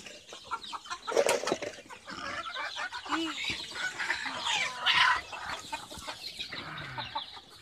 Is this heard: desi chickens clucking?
yes